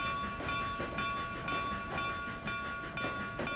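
A steady rolling train rumble from the simulation game Trainz 2022, set on the C&O Hinton route, with rhythmic wheel clacks and a thin sustained tonal whine, continuous and moderately loud with no talking.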